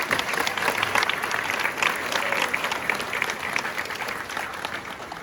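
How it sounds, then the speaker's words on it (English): Dense, steady applause from a crowd at a U.S. Army Ranger School graduation ceremony, continuous and fairly loud throughout, easing slightly near the end. "Ladies and gentlemen, please give a round of applause to Bart Scott Davis"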